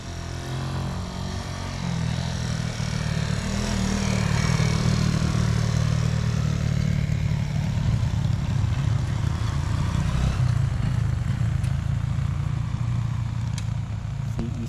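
Motorcycles pass on a mountain road near Mt. Diwata in Monkayo, Davao de Oro. Their engines drone nearby in a steady, rough rumble that swells early and holds for the length of the passage.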